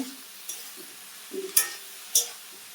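Prawns with potato, aubergine, spring onion and beans sautéing with salt and turmeric in a pan, a soft low sizzle broken by a few sharp scrapes and clicks of a spatula.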